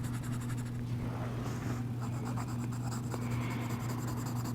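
Pencil scratching across paper while drawing a cartoon Frankenstein's monster, a steady close scribble that keeps on without a break over a constant low hum.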